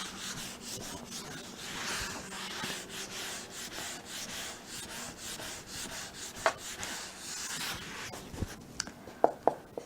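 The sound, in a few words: writing an equation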